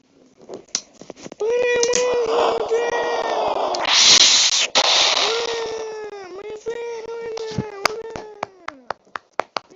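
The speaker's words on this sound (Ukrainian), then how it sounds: "Ну що ж, пора це запустити феєрверки!" Fireworks launch in an animated series: a series of sharp cracks and pops, then rising whistling streaks and a bright burst of crackle, ending in scattered loud bangs, with voices and cheering.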